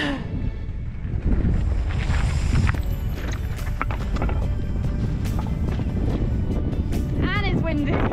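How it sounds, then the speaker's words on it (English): Wind gusting outdoors on a lakeside trail in Finnish Lapland, rumbling as loud buffeting against the microphone, with scattered knocks and clatter throughout. "And it's windy."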